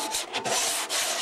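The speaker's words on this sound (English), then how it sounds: "I've just been sanding until I don't see any shiny spots." Sandpaper rubbed steadily against the surface of a Windy 735 build, a close, continuous rasping with brief dips between strokes and no talk.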